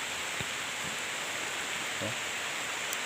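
Light drizzle falling outdoors at a site where large rocks are being split, a steady soft hiss of fine rain with a few faint knocks, quiet and even throughout.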